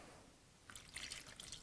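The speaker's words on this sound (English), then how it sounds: "First thing I'm going to do is add in my soy sauce right on top." Soy sauce pours over pork in a bowl, starting faintly after a quiet moment and continuing as a soft, close liquid trickle with light splashing and dribbling.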